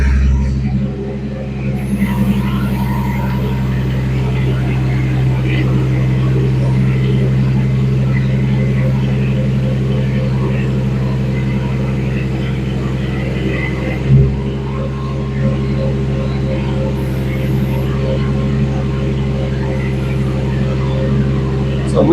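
A JoyT5 JT5120P mini excavator engine running at raised throttle, a steady loud diesel drone with a strong low hum that holds nearly constant throughout, close by.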